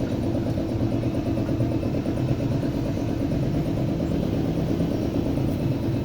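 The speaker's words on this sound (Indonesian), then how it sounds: "Terus kita hidupkan kompresornya dengan alatnya" The air compressor on a tyre changer runs with a steady, loud mechanical drone and a faint rattle, constant from start to finish with no voices.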